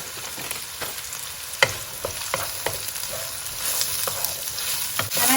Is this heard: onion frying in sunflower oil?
yes